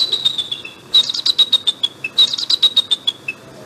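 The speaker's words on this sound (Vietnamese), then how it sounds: "Loài chim này hót cũng hay lắm." Rare pet songbirds in an animated folk tale sing a loud, close, rapid series of high bright chirps and trills in two quick bursts, with no talk over them.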